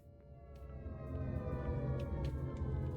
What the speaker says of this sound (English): Air siren?